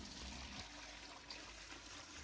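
Water is poured into a large pot lined with a cloth on the bottom, where glass jars sit for boiling. A faint, steady trickle and splash can be heard with no talking.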